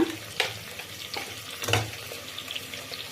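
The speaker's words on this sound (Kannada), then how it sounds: "ಈಗ ಇದೆಲ್ಲ ಫ್ರೈ ಆಗಿ ಘಮ ಘಮ ಸ್ಮೆಲ್ ಬರ್ತಾ ಇದೆ" Tomato and spices fry in a pan for a chicken gravy, a soft sizzle under intermittent scraping and stirring clinks of a spoon, fairly quiet and close, with no talking.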